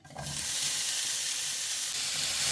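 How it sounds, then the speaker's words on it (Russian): Chopped onion hits hot vegetable oil in a preheated frying pan, bursting into a loud, steady sizzle that holds evenly from start to finish, close up with no talking. "В разогретую сковороду добавляем немного растительного масла и высыпаем лук."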